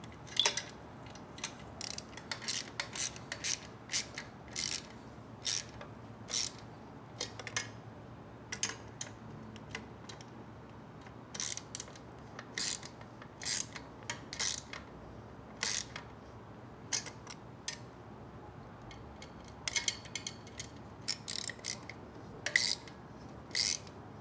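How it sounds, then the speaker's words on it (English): A wrench tightens the exhaust head pipe nuts on an air-cooled Triumph Bonneville while 2-2 drag pipes are fitted, giving quiet, irregular bursts of ratcheting clicks and metallic taps close by, with no talking. "now we just want to alternately tighten these two nuts, bringing the head pipe into the head"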